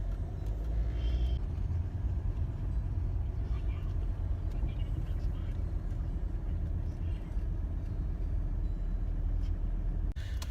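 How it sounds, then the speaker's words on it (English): Inside a moving car passing through a town plaza, a steady low road rumble and engine drone fill the cabin continuously at moderate level. "We are now all in the car, driving by the Arcata Plaza."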